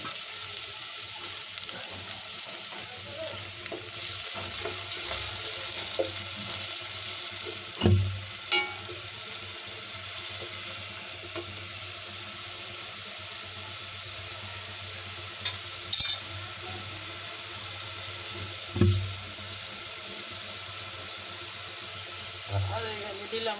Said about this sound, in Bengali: মশলাটা কষাই নিই।